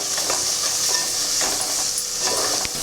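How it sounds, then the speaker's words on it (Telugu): Chopped onion pieces frying in a pan with a little chili powder, giving a steady close hiss with soft bursts of crackle and a few stirring scrapes, no voices. "ఆల్రెడీ ఉల్లిపాయ ముక్కలు వేగుతున్నాయి."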